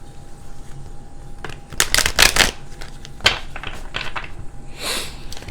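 Tarot cards shuffled by hand, a quiet rustle rising into a burst of fast riffling flutter, then scattered soft card flicks and slides close up, with no talking.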